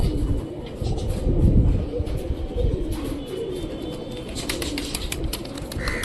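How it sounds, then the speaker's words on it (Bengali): Rajshahi pigeons cooing in a loft, low soft coos running steadily through the whole stretch with light rustling and a few faint clicks. "এটা খুবই ভালো ব্লাড লাইনের রাজশাহীর কবুতর"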